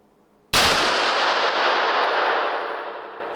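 A single sharp, loud report from a Rock Island Armory XT 22 Magnum rifle, with a sudden onset followed by a long decaying ring-out.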